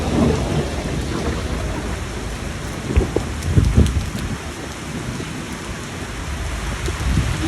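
Heavy rain pours down steadily on a cricket ground in Sri Lanka during a windy storm, with low rolls of thunder rumbling through the middle of the downpour.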